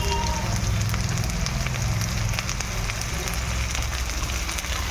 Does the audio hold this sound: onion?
yes